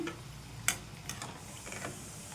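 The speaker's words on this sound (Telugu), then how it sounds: "ఇవి కూడా ఇదే విధంగా వేయించుకోవాలి" Carrot and rice-flour vadas frying in hot oil, a faint steady sizzle with light stirring scrapes and a sharp clink near the start, no voices.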